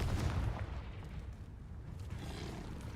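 The Confringo explosive spell goes off in Hogwarts Legacy as a deep, muffled boom that fades into a low rumble over a few seconds, with no voices.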